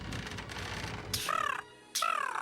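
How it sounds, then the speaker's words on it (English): A crow caws twice in the Sherlock Holmes: Nemesis video game, loud harsh calls over a low ambient rumble, separated by a short near-silent gap. "I hear a bird, Holmes."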